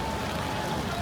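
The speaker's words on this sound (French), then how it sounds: "Il pleut de ouf" Steady, dense rain pours down in Tokyo without a break, a continuous hiss of drops hitting surfaces nearby.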